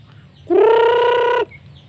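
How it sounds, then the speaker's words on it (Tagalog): A single loud, sustained rooster crow rings out close by for about a second, strong and harmonic, over a quiet background among backyard chickens. "Ayun, narinig ko ng tandang."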